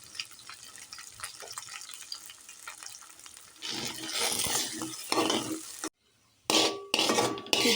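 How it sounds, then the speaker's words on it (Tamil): Eggs fry in a pan for egg fried rice, a close sizzle growing louder midway with scraping stirs and clatter against the pan, broken by a brief silent gap near the end. "இந்த அளவுக்கு முட்டையை பொரிச்சா போதும்."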